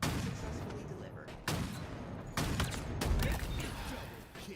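Gunfire rattles through a Halo video game match, dense continuous shooting and explosive bursts filling the mix loudly from start to finish.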